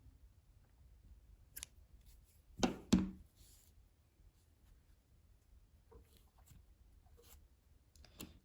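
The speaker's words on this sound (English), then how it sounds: "now you can cut the yarn" Scissors cut yarn while a crocheted strawberry wallet is being finished, two quick close snips in an otherwise quiet room.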